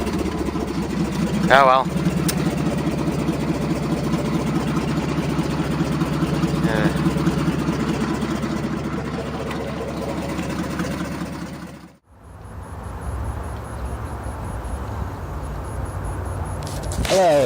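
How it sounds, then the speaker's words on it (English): A 1985 Nissan 300ZX Z31 engine idling with a misfire, a loud close uneven throb that runs steadily, briefly drops away, then resumes; someone speaks briefly over it. "pretty sure it's not supposed to misfire like this"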